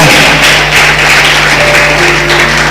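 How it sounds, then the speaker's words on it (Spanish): A church congregation claps loudly and steadily in a Christian service, a continuous crowd of hands under sustained low musical tones. "Damos un fuerte aplauso al Rey de la Gloria."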